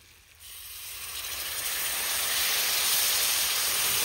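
Half a glass of water hits a hot pan of frying crab, setting off a loud, steady sizzling hiss that swells within the first half second and keeps building, with no voices.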